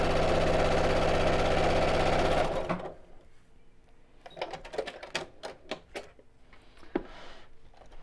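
A sewing machine stitching over tote bag handles runs fast and steady for about two and a half seconds, then stops abruptly, leaving scattered light clicks and handling noises nearby.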